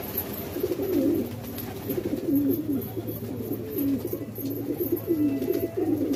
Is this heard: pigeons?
yes